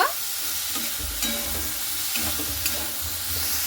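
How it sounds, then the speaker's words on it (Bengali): Okra sizzles in a pan while being stirred, a steady close frying hiss with low scraping thumps of the spatula every second or so, no voices. "এখানে আমার ভিন্ডিটা খুব সুন্দর করে কিন্তু ভালো মতো করে নাড়াচাড়া করে নেব"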